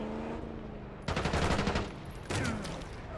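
Rapid automatic gunfire from the Black Ops 6 campaign on Xbox Series X, two loud bursts of fast shots in a dense battle soundscape.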